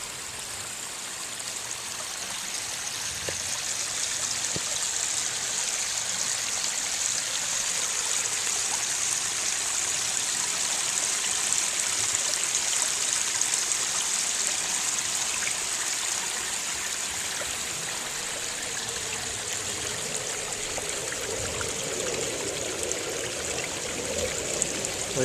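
Water runs steadily down a backyard pondless waterfall with a continuous close rushing and splashing, constant in level throughout with no voices.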